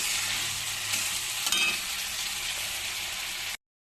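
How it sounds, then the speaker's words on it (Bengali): Loud, steady hiss and sizzle of fish curry cooking in a pan, with a brief clatter near the middle before it cuts off abruptly. "আমার এই মাছের ঝোল ফুটছে"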